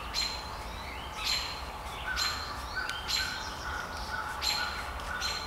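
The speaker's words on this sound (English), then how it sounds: "Some robins above me are aggravated at something." Robins call repeatedly overhead in spring woods on a hilltop, sharp agitated chirps recurring every second or so over a steady outdoor hiss, fairly distant.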